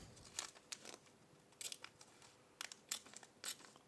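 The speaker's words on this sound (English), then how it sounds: "then I'm going to use the scissors" Scissors trim a brushed copper sheet in several quick, quiet snips and crinkles, with short pauses between cuts.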